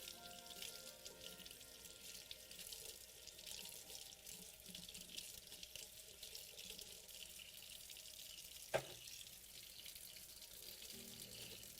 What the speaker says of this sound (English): I can just rinse those off too.